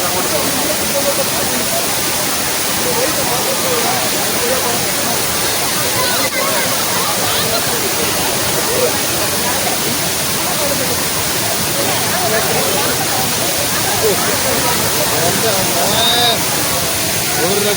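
The Thriparappu waterfall in Kerala sends rushing water down in a steady, dense roar that fills the whole stretch at close range. Voices can be heard faintly under the torrent.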